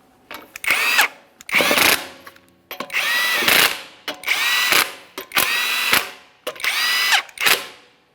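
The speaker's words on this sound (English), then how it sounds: "Once you've started on the lug nuts, go ahead and snug them up." Power tool snugging the front wheel lug nuts on a 2011-2021 Jeep Grand Cherokee, sounding as seven loud, close bursts of rising whir and ratcheting, each about half a second to a second long with short pauses between.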